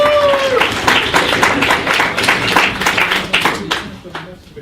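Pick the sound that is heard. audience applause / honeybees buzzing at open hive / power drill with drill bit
audience applause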